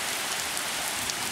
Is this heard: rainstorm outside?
yes